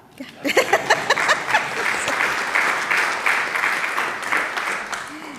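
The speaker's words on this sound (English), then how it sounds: "Yeah, you can clap." A church congregation at a Sunday morning worship service breaks into applause, starting with a few distinct claps and swelling into steady, moderately loud clapping that carries on for several seconds.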